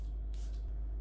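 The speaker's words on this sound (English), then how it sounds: "Let's spray it on this." A Plum Tonic fragrance spray gives a short, soft hissing spritz, close and brief, followed by a second faint puff over a quiet low hum.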